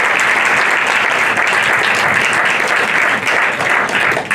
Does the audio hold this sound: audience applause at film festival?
yes